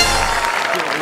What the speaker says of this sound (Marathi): तर जोरदार टाळ्या.